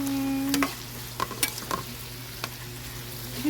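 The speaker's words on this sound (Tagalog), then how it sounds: "Ginisa natin siya sa kamatis, bawang, sibuyas." Tomato, garlic and onion sautéing with tofu in a pan, with a steady frying sizzle under a few clinks and scrapes of stirring utensils against the pan.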